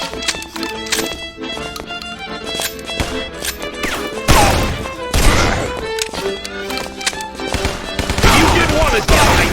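Dense, rapid bursts of gunfire ring out through a chaotic fight in the video game Guns Gore and Cannoli, loud and continuous, with heavy volleys crowding together and a voice heard briefly between them.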